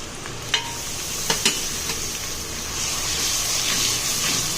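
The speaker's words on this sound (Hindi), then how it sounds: "अब हम ऑयल के अंदर अदरक लहसुन का पेस्ट ऐड करेंगे" Ginger garlic paste hitting hot oil in a karahi pan after the chicken is removed, a steady sizzling hiss with a few sharp spatters near the start.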